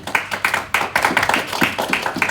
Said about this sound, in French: Est-ce qu'on peut applaudir les filles?